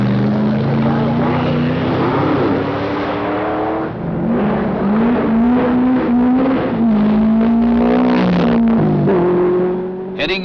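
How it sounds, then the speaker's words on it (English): A Lancia Stratos rally car runs through a forest stage, its engine a loud, sustained drone with shifting pitch as it revs and changes gear, steady throughout and close. "Heading into the Wickham Forest, the fastest car in the rally, a Lancia Stratos"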